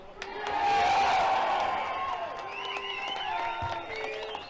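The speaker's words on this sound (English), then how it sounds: "Massive round of applause for Lawrence Fox of GB News." Crowd at an outdoor 15-minute-city protest in Oxford applauding and cheering, with a loud burst of clapping, scattered whoops and whistles, then the noise easing but continuing.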